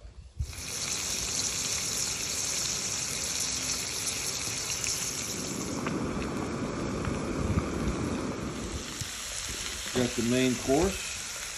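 A ribeye steak fries in a pan at a campsite, a steady broadband sizzle running throughout with occasional scraping and stirring, then a brief voice speaks near the end.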